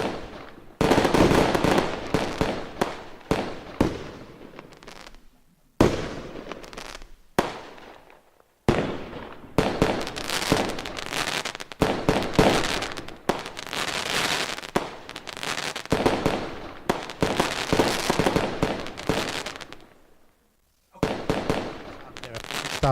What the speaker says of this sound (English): well, what about the fireworks?